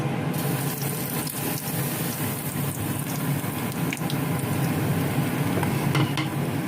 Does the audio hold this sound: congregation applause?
no